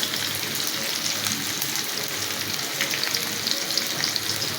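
Fish fries in hot oil for a home Sunday lunch, giving a steady dense sizzle and crackle close by, continuous and even, with no talk.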